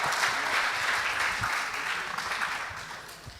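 An audience at a high school debate between Kenya High School and Moi Forces Academy applauds the winning team, a moderate, steady patter of clapping that eases slightly toward the end.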